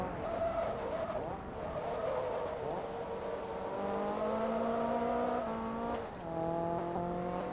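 Race cars from the Forza Motorsport 2 racing game, American Class A regionals, roar steadily with rising engine tones and tire skids throughout, loud and continuous, with a brief dip near the end before the engines climb again.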